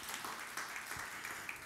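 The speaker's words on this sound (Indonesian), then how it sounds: "Yang setuju beri tepuk tangan yang meriah bagi Tuhan Yesus" Faint, distant applause from a church congregation during a sermon, a soft continuous patter of many hands.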